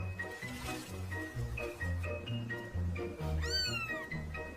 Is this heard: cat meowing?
yes